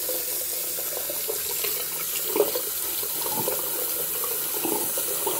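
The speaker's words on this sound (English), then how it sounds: "Turn the faucet on. Turn it on to hot water." Hot water runs from a faucet into a sink in a steady, continuous splashing rush that stays level and close throughout, with no voices.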